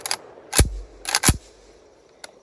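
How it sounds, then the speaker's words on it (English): IWI Galil ACE Gen 2 rifle firing slightly underpowered Norma ammunition, two sharp close shots about a second apart with brief echoing tails, plus faint mechanical clicks. "This rifle is very fun to shoot, especially with this Norma being a little bit underpowered."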